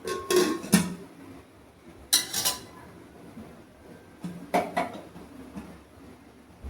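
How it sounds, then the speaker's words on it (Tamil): Metal plate set down over a cooking pot of fish curry, giving a few separate clanks and clinks of metal on metal with quiet pauses between them, close by. "தட்டை போட்டு மூடிடுவோம்"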